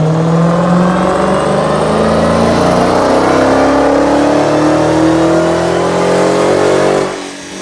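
A Dodge Challenger SRT Hellcat, dyno-tested at 721 horsepower, revs loudly and close by, its engine note climbing steadily for several seconds before dropping off abruptly near the end.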